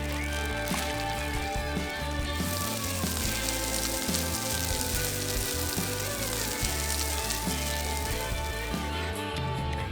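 Potatoes fry in a pan on a camp stove during a hiking and fishing trip in Arjeplog, Swedish Lapland, giving a steady, loud, dense sizzle and crackle that runs unbroken throughout, with no talking.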